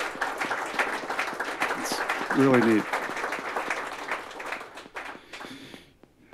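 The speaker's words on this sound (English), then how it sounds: "Let's give them a round of applause." Audience applause at a birthday and 20th anniversary party for an arts organization, steady crowd clapping throughout with a brief spoken line over it and a voice rising near the middle before the clapping fades.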